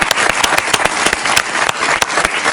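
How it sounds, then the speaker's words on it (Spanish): A studio audience on a talk show applauds for a guest, a steady wash of clapping with sharp individual claps popping out, continuous throughout. "Un aplauso para ella, por favor."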